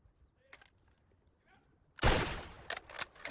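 A single sharp gunshot bursts out at a firing range after near-silence, followed by a few quieter rattling reports.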